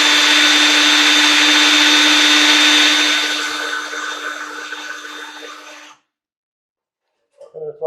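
A StripMeister wire stripping machine runs with a steady motorized whine as wire is fed through. The whine tapers off and stops, followed by brief faint handling noise.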